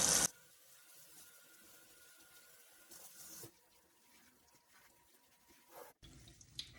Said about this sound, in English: Now I just turn my water on and run it completely through the cool water through my